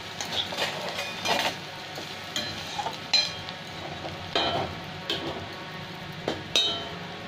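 Semolina and vegetables fry in a pan, a soft continuous sizzle broken by repeated sharp scrapes and knocks of a spoon stirring against the pan at an uneven rhythm.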